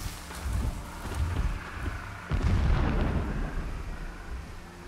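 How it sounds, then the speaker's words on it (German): Muffled booming rumbles of a distant explosion in the video game Horizon Zero Dawn roll in, with a heavier low blast midway, all under a windy background wash. "Entfernte Explosion."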